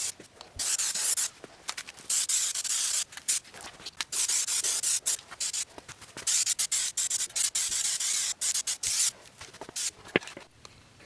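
Spray primer hisses from an aerosol can onto scuffed, lightly sanded car parts during a rust-bucket Honda CR-V rebuild, coming in repeated close bursts of a few seconds each with brief gaps between passes.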